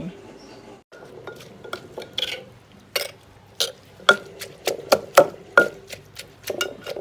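Papaya salad (som tam) being pounded with garlic in a mortar, giving a run of sharp, close knocks that come faster and louder toward the end, with a little kitchen clatter around them.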